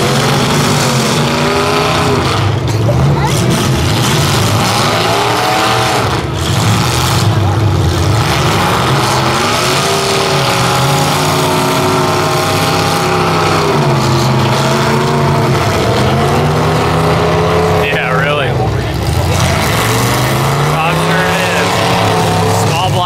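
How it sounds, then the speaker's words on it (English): A Chevy demolition derby car at the 2014 Kalkaska Trout Festival derby labors along with a loud, continuous, rough engine drone that rises and falls steadily, with other derby engines rumbling around it. "Chevy just laboring along."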